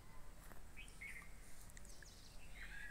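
Asian koels perched in a neem tree, with a few short, faint, far-off whistled calls rising over steady outdoor background noise during a midday scene.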